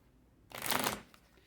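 A Cigano fortune-telling card deck is shuffled during a tarot reading, one quick, soft riffle lasting about half a second, close and crisp in an otherwise quiet room.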